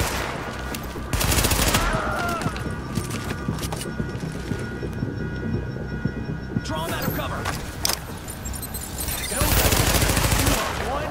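Gunfire in Tom Clancy's The Division, with loud bursts of rapid shots in clusters and scattered single cracks spread across the clip, mixed with game sounds and a voice talking.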